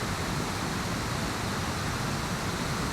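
The Indian Leap waterfall in Norwich, swollen and raging after days of torrential rain, gives off a loud, steady, unbroken roar that fills the whole stretch with dense rushing water noise.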